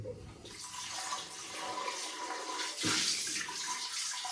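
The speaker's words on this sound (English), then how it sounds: "Wash your bowl." Tap water runs steadily into a shaving bowl being washed, a continuous close hiss with a brief louder surge partway through and no talking.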